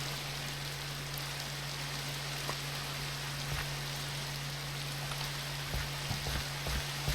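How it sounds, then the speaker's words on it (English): Steady, dense rain hiss from the Minecraft Tektopia mod fills the scene continuously, with a constant low hum beneath and a few faint clicks and thumps late on. "now I can make this rain go away"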